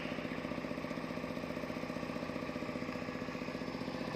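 A 1997 Honda CR-V with a 1.8-litre engine idles steadily at a used-car lot in Phnom Penh, a close, even, rhythmic mechanical hum that runs throughout without talk.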